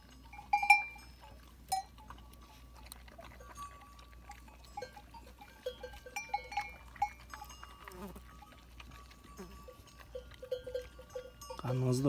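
Sheep wearing bells are let out of a highland pen to graze, scattered clinks and jingles ringing at varying distances over a low steady hum, with a sharper rattle at the end.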